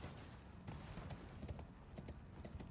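Horse hooves clip-clop in a steady galloping rhythm in a video game speedrun, repeated quick hoofbeats heard faintly over game background noise.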